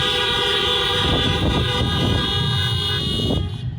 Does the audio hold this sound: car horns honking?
yes